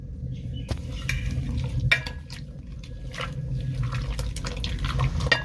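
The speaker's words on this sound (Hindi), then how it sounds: "फिर से अच्छी तरह मिक्स करना है" Tomato puree with garlic and salt being stirred in a pan, with repeated spoon scrapes and clicks over a soft, wet bubbling sizzle, close and continuous.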